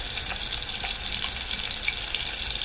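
Chopped onion and a small tomato sauté in hot oil, making a crackling, spattering sizzle with faint scattered pops and no voices.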